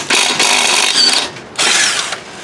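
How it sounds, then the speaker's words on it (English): An impact wrench with a 5/8 socket loosening a wheel on a Craftsman garden tractor, two loud bursts of rattling, whirring hammering split by a short pause, close up with no speech. "We're going to take off the wheel, and I got this impact."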